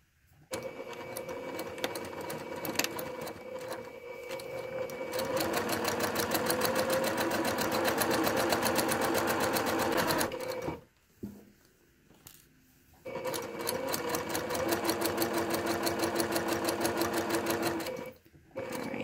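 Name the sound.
sewing machine stitching fabric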